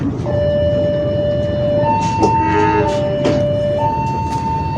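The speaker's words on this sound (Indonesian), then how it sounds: "Ini dia kereta api mata remaja dari Malang dengan tujuan Jakarta Pasar Senen." Matarmaja passenger train from Malang bound for Jakarta Pasar Senen, a steady rumble with sustained tonal whine and horn-like tones sounding over the rolling noise, fairly close.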